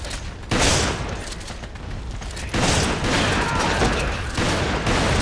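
Dense, sustained gunfire from a Resident Evil 5 Versus online match, with rapid overlapping shots and booms that swell into a louder barrage partway through and keep going to the end.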